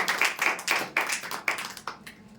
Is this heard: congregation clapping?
yes